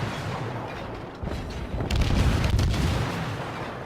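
Cruiser main guns from a Royal Navy Edinburgh warship fire on a Fletcher destroyer in the naval video game World of Warships, heavy booming volleys swelling midway and rolling on loudly without speech.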